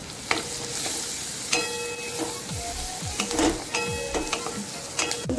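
Chopped onion fries in butter with garlic in a pan, a continuous close sizzle broken by several sharp utensil scrapes and stirring clatters, with no voices.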